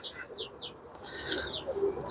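Pet pigeons, fancy breeds like Chinese teddy and golden, coo and chirp faintly in a loft, a few soft calls in quick succession with a light flutter, no talking.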